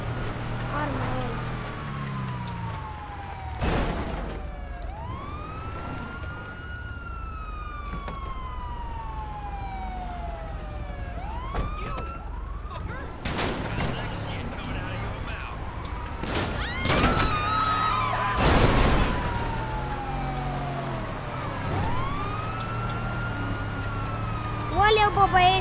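A police siren in a GTA game wails continuously throughout with rising and falling sweeps, with engine noise and crashes beneath and voices talking over it.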